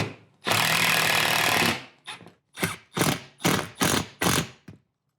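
A drywall hanger is driven in with a power driver while installing LED garage lights: one long steady whine of the driver, then five short bursts in a row, close and loud with no talking.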